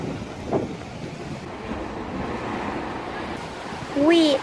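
Surf washing onto the small beach at Xlendi, a tiny village on the southern side of Gozo, heard as a steady broad wash with wind noise on the microphone, swelling louder near the end.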